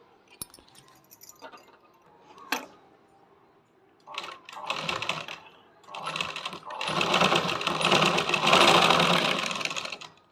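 A sewing machine stitches fabric folded into four, starting with a few brief clicks and short bursts, then running in longer, loud rapid whirring runs.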